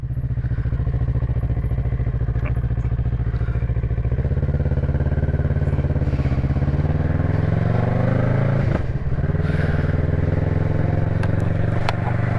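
A motorcycle carrying a rider and a pillion passenger cruises gently over bumpy roads, its engine droning steadily and loud throughout, with occasional clatter and thumps from the surface.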